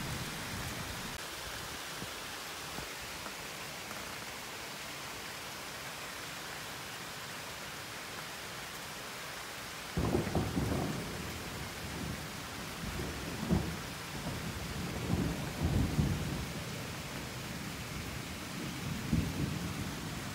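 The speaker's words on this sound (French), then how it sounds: "car le tonnerre se fait directement entendre" In a Christmas thunderstorm, steady rain hisses at first, then close thunder breaks in with a sudden loud crack, followed by rolling rumbles and further booms over the continuing downpour, with no talking.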